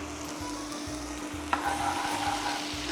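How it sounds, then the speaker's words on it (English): Garlic frying in a little oil in a pan gives a steady, close sizzle, crackling a bit louder midway as it is stirred, with no talking. "So I've got a little bit of oil in the pan right now. Start off with some garlic."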